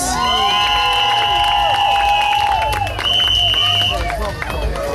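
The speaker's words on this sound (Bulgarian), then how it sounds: "А сега да чуем вашите аплодисменти за Алекс!" At a flair competition, the Vanilla Open, an audience bursts into loud cheering, shrill shouts and whistles with scattered clapping, staying intense before dipping briefly near the end.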